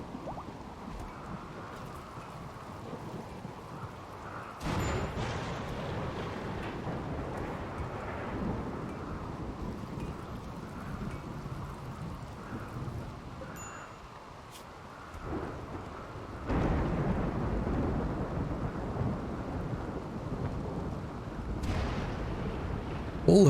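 Thunderstorm in the RimWorld video game, with steady rain and rolling thunder, including a sharp crack and a louder rumble later on, at low overall level.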